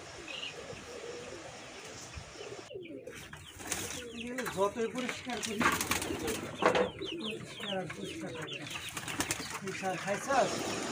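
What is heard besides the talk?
hungry pigeons cooing waiting for food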